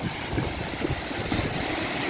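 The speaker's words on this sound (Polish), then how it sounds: "widzicie ten rozbryzgujący się strumień" A splashing waterfall stream in the Comeragh Mountains pours steadily, a continuous close rushing and spattering of water with some wind buffeting on the microphone and no voices.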